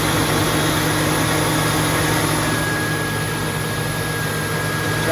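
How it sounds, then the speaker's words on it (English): A radiator fan on a 2002 Mustang GT runs steadily at close range alongside the idling engine, a constant low hum and whir with no breaks. "Fan's running and it's quiet."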